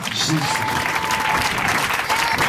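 A church congregation at a Sunday service claps together in steady, dense applause that fills the space continuously.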